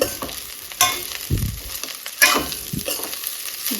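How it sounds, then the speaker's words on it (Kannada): Tempering sizzles over patrode, the steamed colocasia-leaf rolls of Tulu Nadu, in a pan, with a steady close fry hiss broken by a few louder scraping stirs and spoon knocks. "ನಾನು ಸ್ವಲ್ಪ ಪತ್ರೊಡೆನ ಮಾತ್ರ ಒಗ್ಗರಣೆ ಹಾಕ್ತಾ ಇದ್ದೀನಿ"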